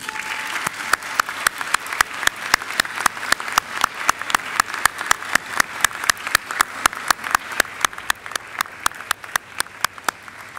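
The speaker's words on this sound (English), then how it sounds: "give them a mighty round of applause" Sustained applause from a large audience at a Macquarie University graduation ceremony, with strong rhythmic clapping cutting through at a steady beat for the whole stretch.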